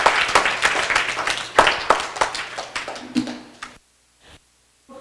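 An audience of children and adults at a children's Christmas dinner claps in a brief burst of scattered, close-sounding handclaps that thin out and then stop into near silence.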